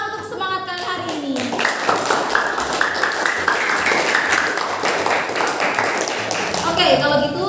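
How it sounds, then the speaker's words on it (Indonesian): Students in a classroom applaud for about six seconds, dense sustained clapping from the whole group, framed by a teacher's voice speaking just before and after. "tepuk tangan untuk semangat kalian hari ini"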